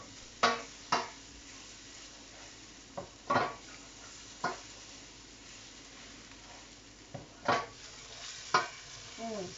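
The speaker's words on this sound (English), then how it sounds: "we're just going to fry this off" Salmon frying in a pan, a low steady sizzle punctuated by several distinct utensil scrapes and taps spaced irregularly across the stretch, no voices.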